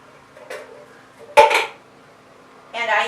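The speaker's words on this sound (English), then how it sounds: "And again, I kind of rinse out my can." Metal clanks and clatters as an emptied crushed-tomato can is rinsed out in a home kitchen: a faint knock, then a sharp loud clunk with a short rattle, and another clattering burst at the end.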